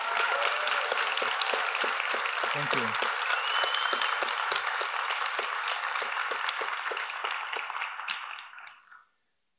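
Sustained audience applause at a Niantic Sandlot JAX 2022 talk, steady dense clapping from a large crowd that fades out at the end, with a brief spoken thanks over it.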